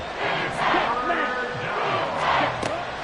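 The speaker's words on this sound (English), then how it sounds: "This crowd turning up the decibel level." A stadium crowd roars in Madden NFL 24 during a Panthers vs Falcons football game, a dense, loud, sustained wash of cheering and yelling that swells and dips slightly throughout.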